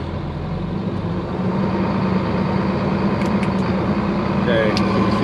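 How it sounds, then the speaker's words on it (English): A 3126 Cat engine in a Ford F650 truck runs steadily at raised cruise RPM, a loud, continuous drone and rumble held at one pitch, while faint talk sits under it. "So what I'm going to do is rev it up and then hit the button,"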